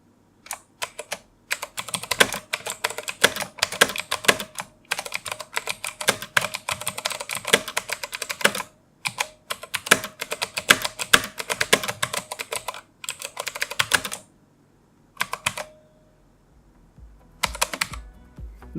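Typing on a Motospeed CK103 mechanical keyboard, with fast, crisp key clicks in dense bursts and several short pauses, close and clear with no talking.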